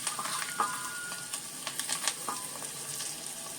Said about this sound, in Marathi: ही फोडणीला घातली लाल मिरची